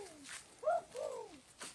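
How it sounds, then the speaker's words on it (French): Pigeons coo in a few soft, rolling calls close by, with short pauses between them, against quiet surroundings. "C'est les pigeons."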